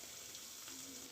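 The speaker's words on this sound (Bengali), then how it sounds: "দেখো বন্ধুরা, আমি প্রথমে 4খানা মাছ ভেজে নেব।" Pabda fish frying in hot mustard oil, a soft, steady sizzle and crackle heard faintly and close for a brief moment, with no voices.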